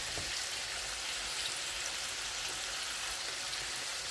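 Bacon frying in a pan makes a steady, even sizzle and crackle, close and moderately loud, with no voices over it.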